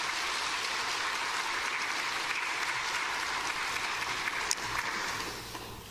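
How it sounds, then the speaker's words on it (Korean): A church congregation in a Korean church in New York applauds to welcome the pastor, a full, even wash of clapping from many people filling the room that holds steady before tapering slightly at the end. "우리 목사님 나오실 때 박수로 환영하겠습니다."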